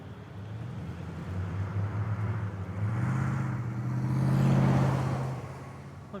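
A car drives along snowy roads in the video game Tell Me Why. A steady, close engine drone hums throughout, swelling louder in the middle and then easing off.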